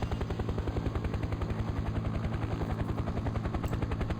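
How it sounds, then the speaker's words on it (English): In the video game Farming Simulator 2017, a helicopter takes off with a loud, steady, rapid rotor chop and a constant engine drone, close and continuous with no talking. "And of course the helicopter is very fitting for this type of map."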